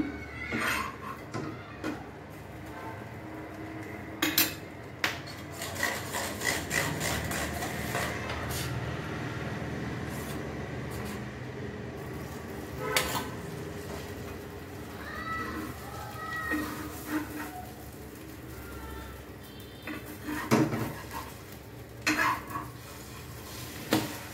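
Bread omelette cooking in a pan, with metal utensils clinking and scraping in irregular bursts over a steady sizzle and kitchen background, fairly close and busy throughout.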